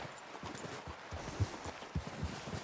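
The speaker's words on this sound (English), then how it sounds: "I'm just going to go and take my horse into the stable." A horse's hooves clip-clop at a walking pace on the way to a stable in the video game Red Dead Redemption 2, a quiet, irregular run of soft thuds under faint background noise.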